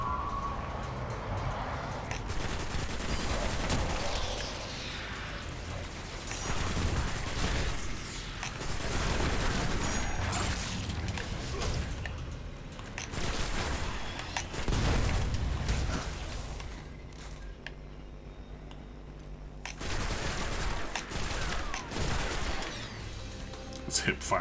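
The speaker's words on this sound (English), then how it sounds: "It's fun to hip fire this gun." Gunfire from hip-firing a weapon in the video game Destiny 1, repeated bursts of shots and booming impacts across the span, with brief lulls and a player talking over the action.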